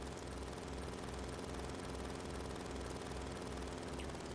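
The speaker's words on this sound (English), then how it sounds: "Why does the helicopter sound like a cheap lawnmower?" Helicopter engine in Final Fantasy VII, a steady buzzing drone with a rapid low chop, thin and lawnmower-like, continuous and fairly loud with no talk over it.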